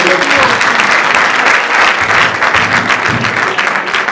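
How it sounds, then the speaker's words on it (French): A seated audience at a youth entrepreneurship and job-creation event in the Democratic Republic of Congo bursts into loud, close, sustained clapping that continues throughout with a dense, even texture. "Ça mérite des applaudissements, s'il vous plaît."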